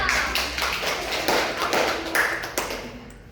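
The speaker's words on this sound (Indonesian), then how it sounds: "Tepuk tangan dong." A grade 6 class claps hands during an elementary science lesson on food chains, a run of sharp, fairly even claps at close range lasting about three seconds, with no talk.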